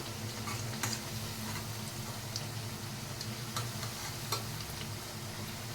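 Corn flour pakoda snacks crackle and bubble steadily in hot oil as they fry crisp on both sides, with occasional sharper pops and ticking spatters breaking through a continuous low sizzle, and no voices.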